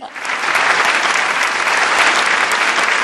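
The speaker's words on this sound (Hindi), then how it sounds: "एक दफा फिर तालियां बजाइए" Audience applause at a comedy show during an awards event in Mumbai, loud and continuous clapping from a crowd that swells in quickly and holds steady.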